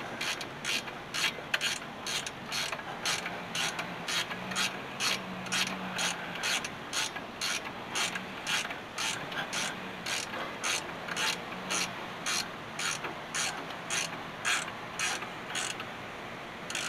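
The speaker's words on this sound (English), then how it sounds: "I gotta get the wrench to tighten that up, which was a 1/2 inch." Half-inch ratchet wrench tightening a fuel line fitting on a Dodge D600 dump truck, a steady run of sharp repeated clicks in even strokes, close and moderately loud with no talking.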